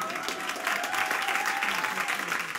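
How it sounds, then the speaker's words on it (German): Audience applauding a comedian at a comedy show, steady dense clapping throughout, with a faint tonal hum beneath. "Wo bleibt mein Applaus?"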